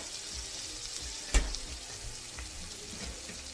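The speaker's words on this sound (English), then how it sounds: "Get that to melt good. I'm going to put in a little bit of minced garlic, about a teaspoon." Minced garlic sizzles in melted butter in a pan, a soft steady hiss close by with one brief clink partway through.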